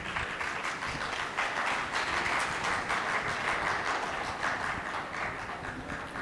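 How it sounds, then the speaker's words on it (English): Audience clapping during an academic policy lecture, a steady dense patter of many hands held at an even moderate level throughout, with no voice over it. "You're clapping at the wrong time"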